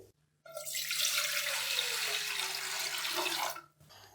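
Water runs from a tap into a pot for boiling rice, a steady rushing stream lasting a few seconds that starts and stops abruptly, close and alone.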